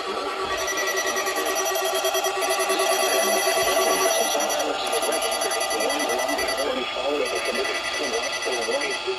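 An Emergency Alert System test broadcast plays its harsh, loud warning tone steadily, with tonal bands sounding throughout and a shifting warble toward the end.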